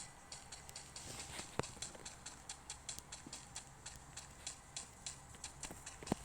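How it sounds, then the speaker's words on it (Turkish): Quick rhythmic video game footsteps patter steadily over a hissy, noisy background, with a couple of sharper thumps standing out. "Artadan ayak sesi duydum."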